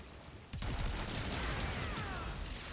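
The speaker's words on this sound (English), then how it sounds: "Shoot one more group of enemies with alt fire." Alt fire from a secondary weapon in the video game Warframe, a burst of rapid overlapping gunfire that starts abruptly and carries on densely over a steady game background, fairly loud, with no voices.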